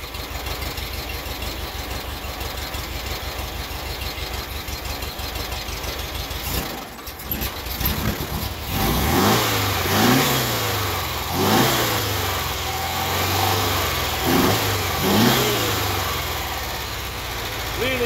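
A 1960 Porsche 356B Super 90 engine on its first run after restoration idles roughly, then is revved several times in rising and falling bursts, close and loud, with people talking over it.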